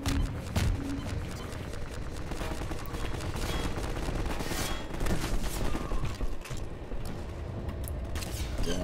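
Rapid bursts of automatic gunfire from the video game Half-Life 2, dense and continuous, with shots rattling off in quick succession at moderate loudness.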